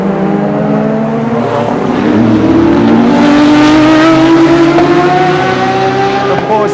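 Loud Porsche race car engines roar close by at the 24 Hours of Le Mans, revs dropping and shifting as the cars brake hard into a banked corner, with a throaty, buzzing exhaust note throughout.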